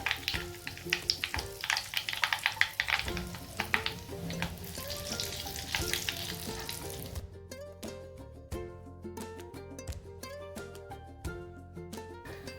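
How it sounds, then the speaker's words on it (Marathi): Mustard seeds crackle and pop in hot oil while tempering with asafoetida and turmeric for a spicy lemon chilli pickle, dense sizzling at first, then sharper scattered pops thinning out toward the end. "मोहरी छानपैकी तडतडले की त्यात आपण अर्धा चमचा हिंग घालू"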